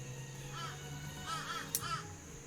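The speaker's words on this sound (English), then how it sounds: "Bloody crows having a good old yell in the background there." Crows caw outdoors in Australia, several harsh calls in two bursts somewhat distant behind a steady background hum, with a brief click in between.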